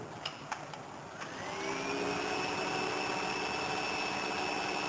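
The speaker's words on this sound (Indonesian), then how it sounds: "kipas langsung hidup" Small electric cooling fan on a Peltier cooler starts up after a few faint clicks, then settles into a steady whirring hum with a rising tonal whine, close and moderately quiet.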